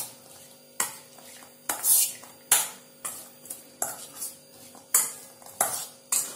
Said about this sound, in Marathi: आता याला आपण छान सगळं एकजीव करून घेऊया.